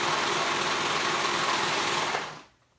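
A sewing machine runs fast and steady as it stitches fabric layers of a top or dress together, a loud continuous whir that stops abruptly near the end.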